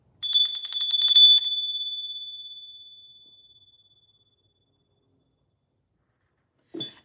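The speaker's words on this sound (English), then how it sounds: "I am going to ring the bell" A single bright bell is rung several times in quick succession at the opening of a reading, then its clear tone rings out and slowly fades to silence, followed by a faint soft knock.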